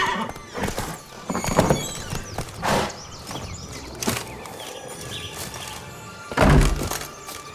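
Roach the horse gallops in The Witcher 3, hooves thudding in an uneven clip-clop rhythm over a busy game soundscape, with a whinny and a heavy thump near the end.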